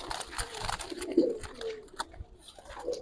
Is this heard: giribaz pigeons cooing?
yes